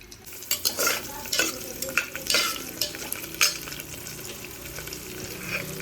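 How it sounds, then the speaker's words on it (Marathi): Field bean seeds are stirred and sautéed with cumin in a pan, giving a close sizzle broken by repeated loud scraping and clattering strokes of a spoon against the pan, with nobody speaking. "सो ह्या चांगल्या परतवून घ्यायच्या बिया."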